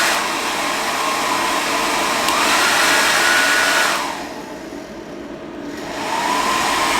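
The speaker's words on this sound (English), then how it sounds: "the inverter's been put under a bit of pressure using the hairdryer" A hair dryer drawing power from a Bluetti EB55 portable power station's inverter blows with a loud, steady rushing roar that sags and softens briefly near the end before rising again.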